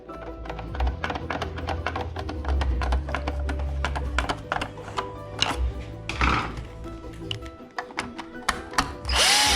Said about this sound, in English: then I'll put the 2 screws in there